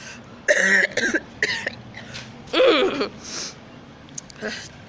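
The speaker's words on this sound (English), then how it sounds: "Please pardon me for my cough." Several short coughs come in bursts, one after another, close and fairly loud, with a brief pause before a final rough cough.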